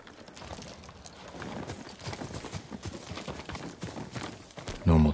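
A farm horse in the video game Ghost of Tsushima clip-clops at a walking pace, with rapid close hoof strikes over a faint ambient background, ending in a brief loud thump.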